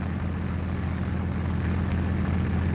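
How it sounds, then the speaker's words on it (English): Aeroplane engines drone overhead in a continuous, steady low roar, dense and unbroken for the whole stretch, with no voices. "the sound of aeroplane engines filled the air"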